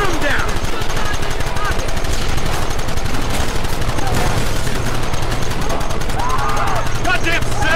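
Dense, continuous gunfire in a Red Dead Redemption shootout, rapid overlapping shots and a sustained roar of weapon noise running loud throughout, with game voices and shouting mixed in.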